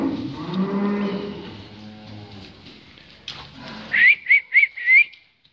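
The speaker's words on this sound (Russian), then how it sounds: "Сейчас я буду выпускать коров на улицу в загон." Dairy cows on a farm moo in long, low calls, heard fairly close in a barn before being let out to a pen; later, several short whistles sound in quick succession.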